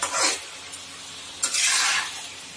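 Capsicum kadai chicken being sautéed in a kadai, two loud bursts of stirring and sizzling, one at the start and a longer one midway, with quieter pan hiss between them and no talking.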